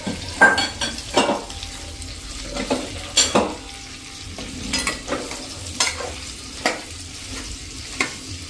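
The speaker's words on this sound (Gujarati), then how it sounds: "તો હવે આપણે આ જે ભીંડો સમાર્યો છે ને એ નાખી દેશું અને એને આપણે આ રીતે મિક્સ કરી લઈશું" Chopped okra, marinated in chickpea flour, stir-fried and stirred in a pan, with a steady sizzle broken by repeated scraping strokes of a spoon against the pan, close and fairly loud.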